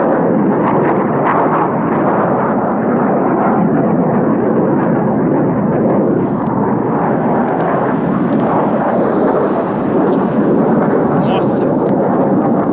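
Military fighter jets flying over near a base, at least two, a loud continuous rumbling roar that fills the whole stretch without a break, heavy and thunder-like, with no voices over it.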